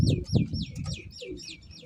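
A pigeon coos close by, mixed with quick repeated chirpy calls, loud at first and tapering off.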